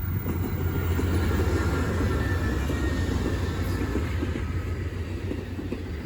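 An Amtrak passenger train passes at night with a loud, steady low rumble and rolling rail noise that holds throughout.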